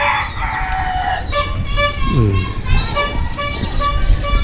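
Chickens including a laying hen on a farm, with clucking and rooster-like calls rising and falling over a steady background, fairly close and continuous.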